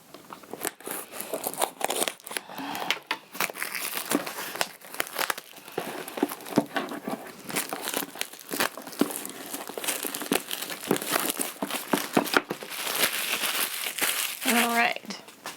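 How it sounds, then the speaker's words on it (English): Plastic wrap crinkles and crackles continuously as it is pulled and peeled off a water filter science kit box, close up, with small snips from scissors and rustles throughout. "we're just going to have to get this plastic wrap off"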